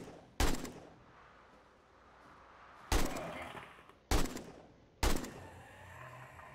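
Gunshots in the video game 7 Days to Die, four loud sharp single reports separated by pauses of a second or more, each trailing into a short decay.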